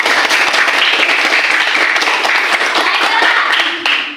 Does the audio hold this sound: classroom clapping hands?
yes